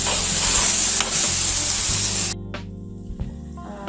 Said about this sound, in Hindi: अच्छे से हिला के भून के इसको थोड़ा धीमी आंच पे, ताकि जले नहीं।